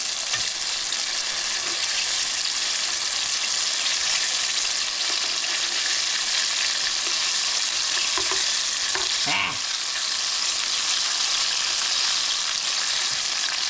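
Chicken pieces for sesame chicken fry in a pan with a steady, dense sizzle throughout, broken by a brief stir or clatter near the middle; no one talks.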